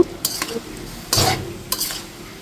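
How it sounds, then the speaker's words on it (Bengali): Pre-fried shrimp stir-fried with water lily stems in a pan, loud close sizzling with three quick scraping spatula strokes, the middle one longest, over a continuous frying hiss. "ভেজে রাখা চিংড়া দিয়ে দিচ্ছি চিংড়াগুলো দিয়ে এখন আমি খুব সুন্দর করে নেড়ে চেড়ে"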